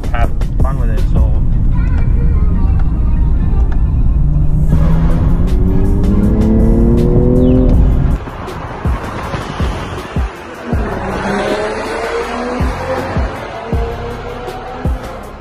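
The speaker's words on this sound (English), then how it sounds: "I have a really nice sounding 6-cylinder engine with a lot of power" A BMW M340i with a six-cylinder engine pulls hard on a highway, its loud engine note rising through the gears in sweeping climbs before dropping into rough road and wind noise.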